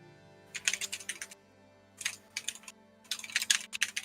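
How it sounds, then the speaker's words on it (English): Rapid bursts of typing on a computer keyboard, three clustered flurries of quick clicks separated by short pauses, close and fairly loud over a faint steady background hum. "He's typing away at a rapid pace."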